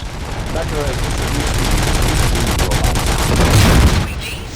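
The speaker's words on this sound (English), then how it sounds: "Gunshots? What's going on?" Rapid, continuous automatic gunfire with booming impacts in the video game RoboCop: Rogue City, loud and close, ending abruptly as the shooting stops.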